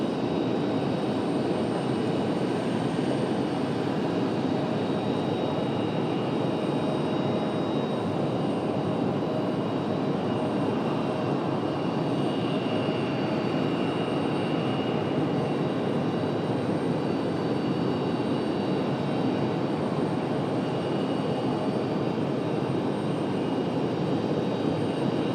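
Airliner departing runway 23 right at Raleigh Durham International, a steady broadband engine roar holding at a constant level throughout, distant and continuous with no talk.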